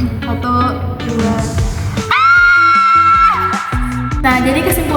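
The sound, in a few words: shouting in two voices for a salt vibration experiment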